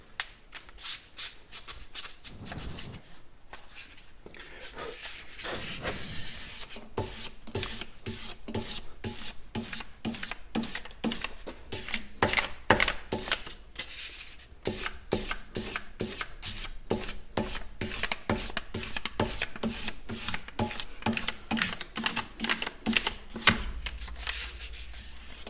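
An inshave is honed on a 1500 grit stone, a close run of rapid rhythmic rasping strokes that continues steadily with a few brief pauses.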